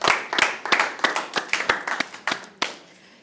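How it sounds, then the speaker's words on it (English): A small audience claps in distinct, rhythmic hand claps at close range, about a dozen sharp strikes that slow and thin out before stopping. "Please, can we applaud her?"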